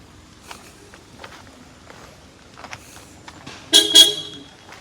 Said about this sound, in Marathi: मी हॉर्न मारतोय